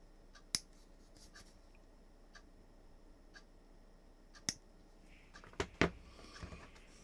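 Cutters snip plastic stubs off the wheels of a model Academy halftrack, a handful of sharp, isolated clicks spaced apart in a quiet room, with a small cluster of snips and handling noise near the end.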